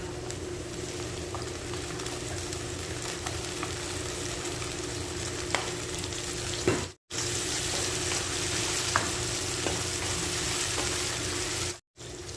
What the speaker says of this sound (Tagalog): Asahan natin ang patis, mga ka-recipe, ang ating paggigisa